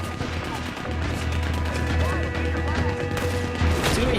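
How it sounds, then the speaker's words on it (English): Gatling gun firing in Red Dead Redemption 2 on Xbox One X, a dense stream of rapid gunshots mixed with crashes and game noise, steady and loud, with voices talking over it. "Gatling gun."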